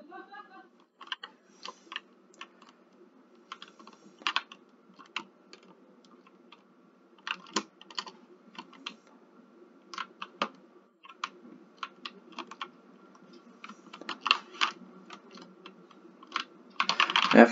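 Keys clacking on a computer keyboard in irregular bursts of taps with pauses between, fairly close and moderately quiet, ending in a denser flurry of keystrokes.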